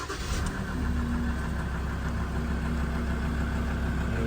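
A Ford car engine catching and settling into a steady idle, a loud, even, close-up rumble with a constant low hum running unbroken to the end.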